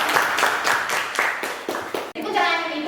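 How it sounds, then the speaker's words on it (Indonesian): A class bursts into applause and clapping for a group presentation in a school classroom, many hands clapping steadily and fairly close, with children's voices mixed in and a short break before the noise carries on. "Beri tepuk tangan."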